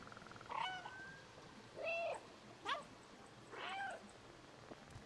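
A cat meows four times in the video game Stray, spaced about a second apart, clear and fairly close in a quiet setting.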